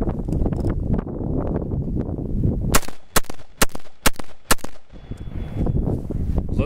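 A rifle fires steel-cased ammo fed from a Troy Battlemag magazine outdoors. About five loud, sharp shots crack in quick succession after a stretch of wind and handling noise.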